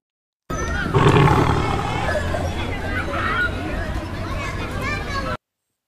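A tiger roars loudly and fairly close for several seconds over a busy bed of crowd babble and children's voices.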